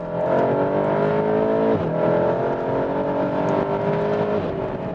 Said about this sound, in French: Allez, fais-nous chauffer le moteur.